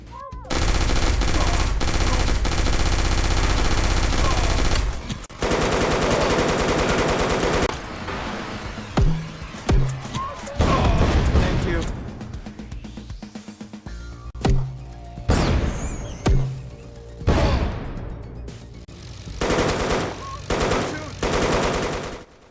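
Machine gun fire in the Operation Wolf Returns VR shooter, first a long unbroken burst, then a string of short separated volleys and single shots with crashes between them, loud and close.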